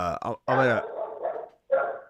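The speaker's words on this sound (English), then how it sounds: "Is that your dog in the background?" A dog barks in the background during a remote call about fantasy football trades, giving a few short, voiced barks and yelps at moderate distance in separate bursts.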